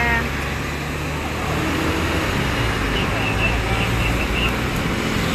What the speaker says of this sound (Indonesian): Traffic jam. There's an accident.